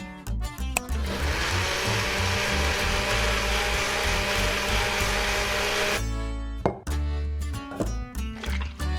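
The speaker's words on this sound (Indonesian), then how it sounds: "Blender sampai kental." An electric blender whirs loudly for about six seconds while blending food until thick, then cuts out, followed by clattering and scraping sounds.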